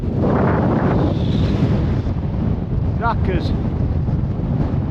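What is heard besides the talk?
strong 49 mph gale wind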